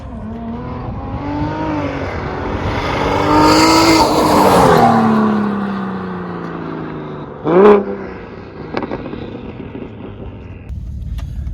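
A BMW F80 M3 with a single-turbo conversion, heard from outside, revs and accelerates past, its engine note climbing to a loud peak and fading. It is followed by a sharp pop or bang and smaller crackles as it moves away.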